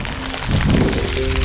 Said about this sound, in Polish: Tak gęsto pada ten deszcz